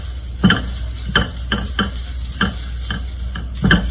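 Dried coconut stirred and roasted in a pan for a Bangalorean biscuity roti filling: a spatula scrapes and taps the pan in a steady rhythm, about two strokes a second, over a constant low hum, with no talking.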